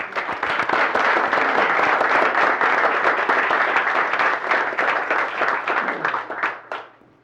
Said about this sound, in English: So I'd ask you to join me in a round of applause for the Chatham Athletic Foundation.